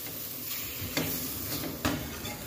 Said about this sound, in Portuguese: Continuo mexendo.